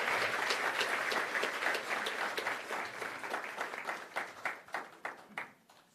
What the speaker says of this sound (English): please join me in giving Jim a huge round of applause and clap.